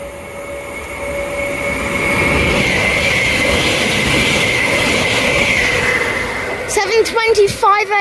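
A Greater Anglia Class 720 electric train, unit 720523, runs through Romford station with a loud rolling rumble and a rising electric whine, ending in sharp squeals and clatter as it passes close by.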